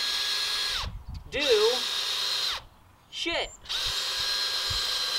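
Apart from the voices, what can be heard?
cheap drill drilling into rock, low power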